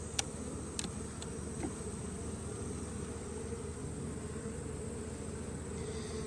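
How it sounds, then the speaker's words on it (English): A late-season honey bee colony works around a merged hive, its continuous low humming buzz steady from start to finish, broken by a few brief faint clicks early on, with nobody speaking. "still got some bees up here working around doing some things."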